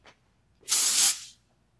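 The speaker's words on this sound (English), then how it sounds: "Texturizing spray, self-explanatory." A burst of texturizing hair spray containing natural silica hisses from an aerosol can for about half a second, loud and close, following a faint brief spritz.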